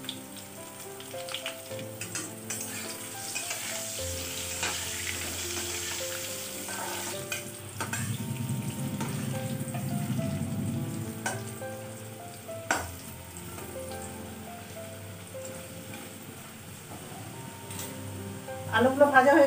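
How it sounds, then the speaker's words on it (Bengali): Potatoes fry in oil in a hot wok (karahi) on a gas stove, giving a steady sizzle and occasional stirring scrapes under background noise, with a louder clatter near the end. "আলুগুলো ভাজা হয়ে গেছে, বের করে নেবো"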